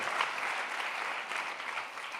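Congregation applause at a Spanish-language church sermon, a soft, continuous roar of many hands clapping, fairly distant and even in level, with no speech on top.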